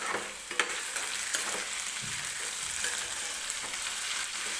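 Potatoes sizzle in hot oil for sabudana khichdi, a continuous crackling fry with brief scraping stirs of a spoon against the pan, heard close with no talk.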